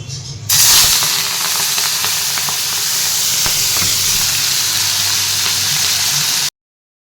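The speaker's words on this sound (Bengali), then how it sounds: "তো দেখো তেলটা গরম হয়ে যাওয়ার পর একদম হলুদ আর নুন দিয়ে দিয়েছিলাম তো এবারে খুব ভালো করে ভেজে নিচ্ছি" Prawns full of roe frying in hot oil with turmeric and salt, giving a loud, steady sizzling hiss that rises sharply after a brief moment and holds evenly until it cuts off.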